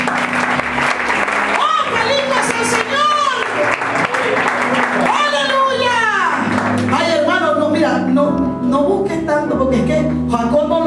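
Church congregation applause at an Alianza Misionera Internacional service, clapping heard under loud, sung and shouted voices and swelling tones, busy and close throughout.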